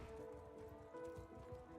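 Horses gallop in the medieval video game Mount & Blade Knightfall, a dense, continuous drumming of hooves at a steady pace with a faint whinny under a constant humming backdrop.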